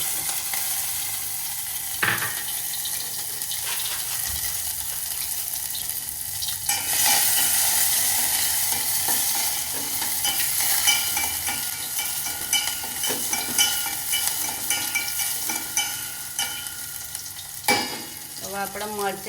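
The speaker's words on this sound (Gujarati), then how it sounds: "હવે આપણા મરચાં ને ગઈ તતડી ગયું છે" Green chilies and mustard seeds crackle and sizzle in hot oil during tempering for Gujarati onion bhajiya, giving a continuous frying hiss with scattered pops and an occasional clink of a utensil, with no talk.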